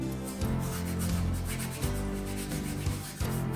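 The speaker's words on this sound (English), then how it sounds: "this oregano is not broken up, so I'm going to grind it myself" Dried oregano crushed and ground by hand for meatballs, a steady close rubbing and gritty sanding texture with a few short crackling bursts, no talking.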